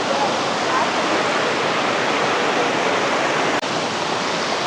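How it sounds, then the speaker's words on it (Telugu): Steady, loud roar of a waterfall on the Netravathi river in Karnataka's Western Ghats, heard close on a trek, continuous and even with one momentary dropout near the end. "నేత్రావతి రివర్ నుంచి వాటర్ ఫాల్ నుంచి"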